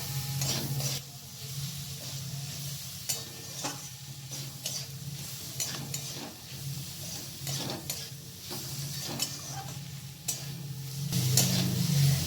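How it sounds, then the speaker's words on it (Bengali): Paneer curry base of tomato, cashews and char magaz melon seeds cooking in a pan over medium heat, giving a steady soft sizzle punctuated by scraping spatula stirs, with no talking. "এরপর মিডিয়াম আঁচে সমস্ত উপকরণগুলিকে কুক করে নেব যতক্ষণ না টমেটোটা একটু গলে না যায়।"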